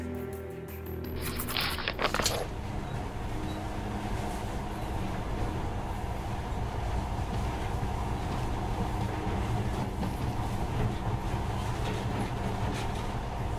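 Steady rumbling monorail ride in the post-apocalyptic game Metro Last Light, a continuous low mechanical drone and rattle held throughout, preceded by a brief burst of noise at the start.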